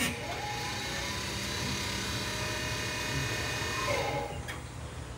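Homebuilt disc wire wheel spinning up, a steady close electric-motor whine with a humming, buzzing drone that holds level and then winds down.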